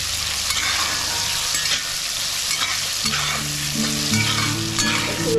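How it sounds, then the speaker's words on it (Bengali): Potatoes sizzle in hot oil in a kadai with salt and turmeric for muri ghonto, with steady frying crackle and stirring scrapes, and a low hum coming in partway through. "এখন আমি মুড়ি ঘন্টার লাগি যে আলু বানাইছিলাম এগুলো এখন ভাজা করি।"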